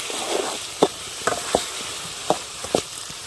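Onions frying in oil in a village-style kitchen while poori curry is cooked, a steady close sizzle broken by several sharp stirring scrapes and clatters, with no talk.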